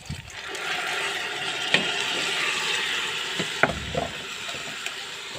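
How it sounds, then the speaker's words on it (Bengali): Rice and lentils sizzle steadily in hot oil in a pan, a continuous loud frying hiss broken by a few sharp clinks and stirring scrapes. "ভালোভাবে ভাজা হয়ে গেছে, এখন আমি চাল ডাল দিয়ে রেখেছিলাম"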